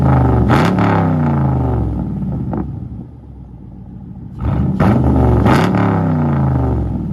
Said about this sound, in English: Chevy Camaro True Dual, straight pipe.